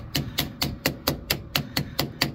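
Steady, evenly spaced hammer strikes on metal, about ten sharp clanks in a regular rhythm, close by, while working on a 1970 Chevrolet C50 truck.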